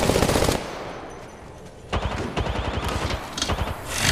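Automatic weapons fire in the mobile battle-royale game Apex Legends Mobile: a short loud burst, a brief lull, then rapid rattling volleys close by.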